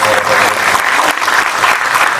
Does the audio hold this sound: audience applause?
yes